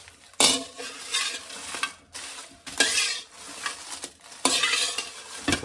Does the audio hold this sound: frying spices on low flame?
yes